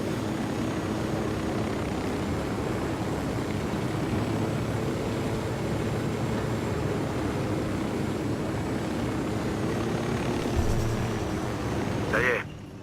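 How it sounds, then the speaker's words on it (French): A helicopter's engine and rotors drone in a constant, steady hum in the video game Ghost Recon Wildlands, loud and close, with a brief clatter near the end. "C'est comme ça qu'on pose un hélicoptère."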